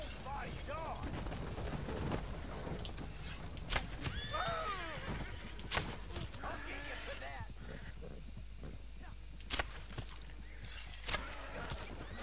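Horses in the video game Red Dead Redemption 2 neigh and whinny with clip-clopping hooves amid game noise and sporadic gunshot-like bangs, while people talk over it throughout.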